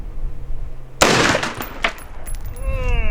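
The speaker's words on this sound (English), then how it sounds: "I'm gonna go ahead and shoot it again." A single loud gunshot from a 5.56 or 300 BLK rifle cracks sharply after a quiet moment, followed by a ringing decay and faint reverberation.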